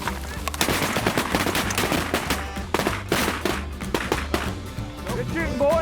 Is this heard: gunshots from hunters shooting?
yes